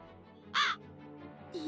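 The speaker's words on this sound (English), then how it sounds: "here's the crow" A single crow caws once, loud and close, in the video game Lucius, a short harsh burst standing out over a quiet game backdrop.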